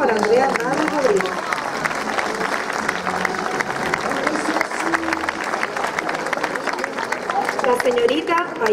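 An audience applauds a model at a fashion show of 1950s styles in La Galga, the clapping dense and sustained throughout while voices carry on beneath it.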